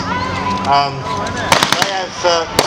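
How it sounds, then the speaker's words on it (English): A German MG42 machine gun fires in short bursts at an outdoor WWII battle re-enactment, sharp cracks clustering late in the moment while a voice talks steadily underneath. "German machine gun, the MG42, which, as I mentioned earlier, was one of the finest weapons of the Second World War"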